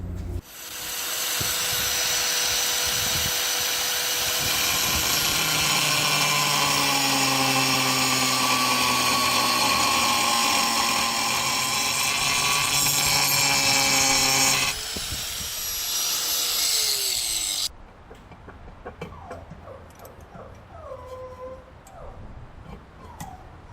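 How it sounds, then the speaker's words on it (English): A power grinder whines loudly and continuously against spots on a 1964 Ford Thunderbird during final assembly, pitch shifting under load, then winds down and stops, leaving faint shop noises. "let's go ahead and get the grinder on them"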